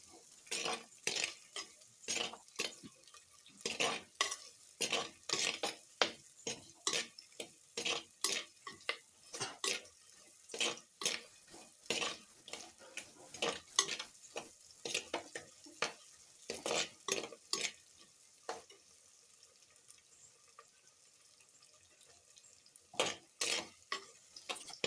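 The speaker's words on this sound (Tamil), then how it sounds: "பூண்டும் வெங்காயமும் நல்லா சேர்ந்து வதங்கணும்" A spoon stirs garlic and onion sautéing in a pan for radish kuzhambu, producing repeated sharp scraping clinks in an irregular rhythm over a faint background sizzle, close and fairly quiet.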